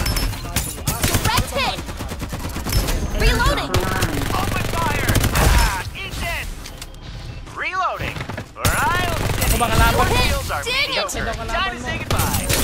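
Rapid bursts of automatic gunfire and single shots from the battle-royale game Farlight 84, loud and repeated throughout with brief pauses, mixed with game voice lines and a player talking.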